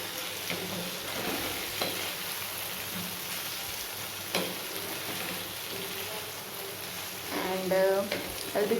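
Two medium-sized onions and green chilies fry in a pan over a very low flame, a steady close sizzle with occasional stirring knocks and a louder crackling burst near the end; a voice speaks faintly at times.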